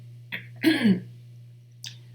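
A single throat-clearing cough, brief and close, with a faint short breath sound before it and another a moment later, over a steady low hum.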